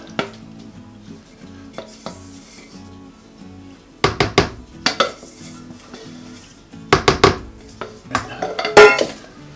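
Liquid mixture being mixed into flour in a bowl for sour cream banana bread: utensil scrapes and clinks against the bowl in irregular bursts, louder clattering clusters in the second half, close and with no talk.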